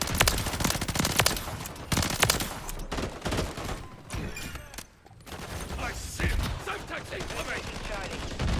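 Dense, continuous automatic gunfire from a multiplayer match of the video game Modern Warfare 3 on the Shipment map, with rapid overlapping bursts and shots filling the whole stretch almost without pause, loud and close.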